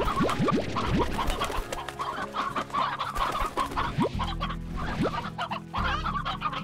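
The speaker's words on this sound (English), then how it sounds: "Normal hens, since they're the easiest ones to replace." Ordinary hens in the video game Slime Rancher cluck steadily and overlap one another, with brief rising squawks scattered through a busy, fairly loud farmyard bed of game sound and no voices.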